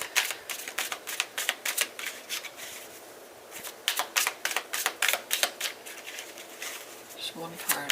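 A deck of tarot cards is shuffled up close in rapid, rhythmic flicking bursts that pause and resume, and a voice speaks briefly near the end.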